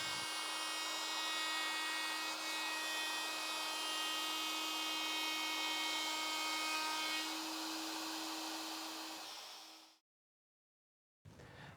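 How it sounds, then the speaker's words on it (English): A plunge router cuts the outside edge of a wooden tabletop in a single skim pass, giving a loud, steady high-pitched whine that winds down and stops, then restarts briefly. "I can plunge the router to full depth and cut the outside edge in a single pass."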